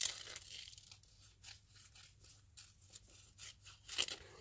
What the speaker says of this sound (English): I'm just gonna sort of cut around this like that